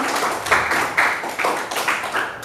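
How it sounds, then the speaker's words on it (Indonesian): A classroom of students applauds a presenting group before their economics presentation, a short burst of many hands clapping with uneven pulses, close and lively. "Sebelumnya kita berikan tepuk tangan dulu buat kelompok Kiel"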